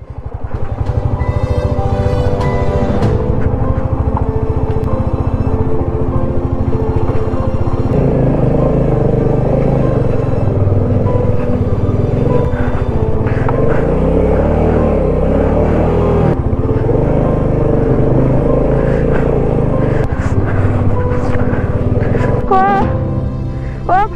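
A motorcycle engine drones steadily while riding offroad along a jungle trail in Purulia, its pitch rising and falling with the rough terrain, loud and close throughout with occasional rattles.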